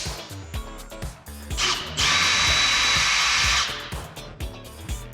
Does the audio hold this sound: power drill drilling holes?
yes